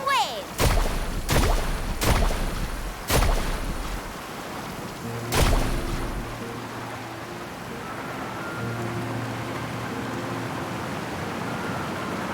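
Boat carving through waves in Genshin Impact: several sharp splashing crashes in quick succession, then a heavier surge, settling into a steady watery rush with a low hum beneath.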